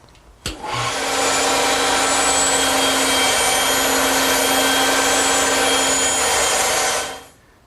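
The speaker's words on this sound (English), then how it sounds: "The decorative pieces between the uprights and the stiles are made of 1/2 inch oak, and they're easily cut here on the bandsaw." A bandsaw runs steadily through half-inch oak, cutting small decorative pieces. The loud, even whine starts abruptly, holds for about six seconds and then spins down.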